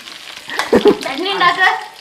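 Chilli bajji frying in a pan at night gives off a hissing sizzle while voices talk over it.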